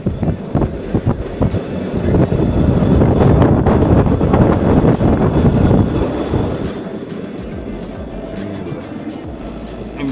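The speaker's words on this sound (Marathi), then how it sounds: "आपली कार चालली आहे ट्रेनवर, आणि 20 मिनिटाचा हा प्रवास होता." A car-carrying train rumbles along with a loud, dense roar and heavy wind buffeting, heard from a car riding on board; the noise holds steady, then eases and thins toward the end.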